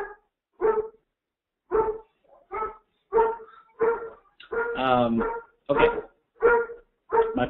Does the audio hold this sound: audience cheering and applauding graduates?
no